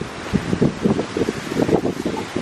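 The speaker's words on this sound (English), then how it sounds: "Oh, it's windy." Outdoors, gusty wind buffets the microphone in uneven rumbling bursts, a close, rough roar that swells and fades without any voices.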